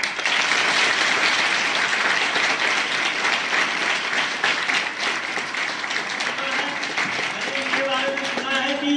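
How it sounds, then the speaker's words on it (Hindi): A school audience applauds a second-place high school board exam student, with loud, dense clapping sustained throughout and a voice speaking faintly over the tail end. "जो दूसरे स्थान पे आ रही है उनके लिए आपकी तालियों की गड़गड़ाहट थोड़ी देर तक होनी जरूर चाहिए"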